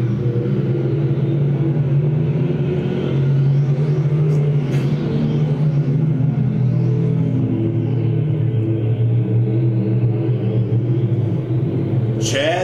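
Race cars roar around a track during a heat race, a continuous loud rumble of engines as the cars come out of a turn, with an announcer talking over it throughout.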